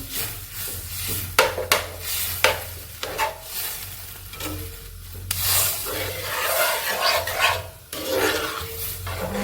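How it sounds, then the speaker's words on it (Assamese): A spoon or spatula stirs a dish of bitter flowers (tita phul) in a cooking pot with rhythmic scraping strokes over a soft sizzle, close and fairly loud with no talk. "তাৰপিছত আৰু এইদৰে লৰাই দিম।"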